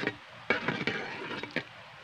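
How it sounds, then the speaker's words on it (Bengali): Rice being stirred with oil, cloves and bay leaves in a cooking pot, giving soft scraping and clinking strokes with light sizzle over two seconds, close and alone. "এবার ভালো করে মিশিয়ে নেব"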